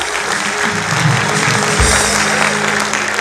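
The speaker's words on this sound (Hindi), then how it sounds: "बजा तालियां" Audience clapping at a spoken discourse on devotion to country, a steady burst of applause filling the hall for about three seconds at close, even loudness.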